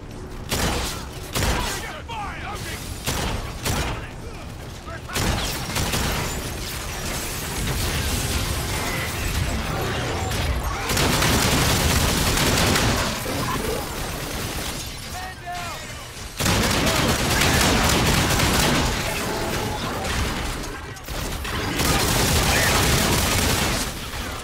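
Gunfire from a shotgun mode in the game Infinite Warfare, with many dense, loud bursts that run almost continuously under talk and battle noise.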